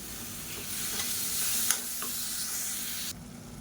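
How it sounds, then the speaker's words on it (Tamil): Chopped tomatoes and green chillies sautéing in a pan for cauliflower pea rice, a steady close sizzle with a few sharp stirring scrapes midway, then quieter frying toward the end. "தக்காளி நல்லா மசிஞ்சு வர அளவுக்கு வதக்கிக்கலாம்."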